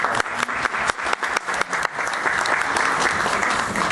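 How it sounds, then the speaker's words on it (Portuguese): A crowd at a bookstore launch event in Fortaleza applauds, starting with a few distinct nearby claps and then swelling into full, steady clapping that fills the room. "por favor, aplausos."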